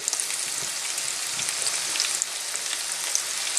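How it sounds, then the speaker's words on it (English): Onions frying in olive oil, a steady close sizzle with fine crackling pops that runs without a break. "Alright, onions go in."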